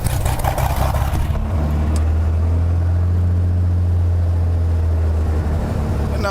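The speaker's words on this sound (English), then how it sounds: "Now engine start." A Cessna 206H aircraft engine starts with a brief cranking burst, then catches into a steady, loud low idle drone that runs unbroken.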